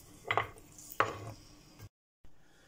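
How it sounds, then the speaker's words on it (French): Knife chopping eggplant flesh, peeled onions and garlic cloves finely on a cutting board, two bursts of rapid close chopping strokes followed by a brief pause and a faint restart. "Et là, on va venir le hacher finement."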